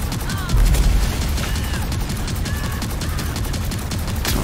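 Rapid gunfire from a weapon in Rage 2, a dense stream of repeated shots at close range that continues throughout at a steady level.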